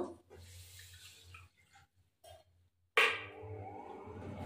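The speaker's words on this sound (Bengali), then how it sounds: "জল দিলাম" Water pours suddenly into turmeric powder in a kitchen, a close, splashing gush after a quiet moment of small handling noises.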